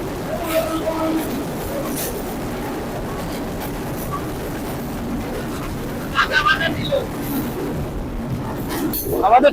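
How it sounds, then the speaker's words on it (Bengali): A Chitra Express passenger train pulls into Noapara railway station, heard from on board as a steady low rumble of wheels and carriages, with someone talking over it and a few brief knocks and rattles. "ট্রেনটি দীর্ঘ চল্লিশ মিনিট যাত্রা করে এখন নোয়াপাড়া রেলওয়ে স্টেশনে প্রবেশ করছে"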